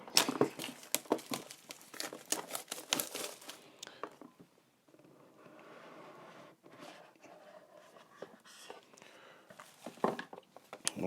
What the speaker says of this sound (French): C'est parti, on déballe.